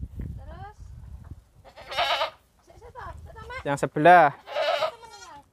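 Goats in a goat pen bleating several times in short wavering cries, close and fairly loud, interleaved with a person speaking nearby amid faint pen rustling.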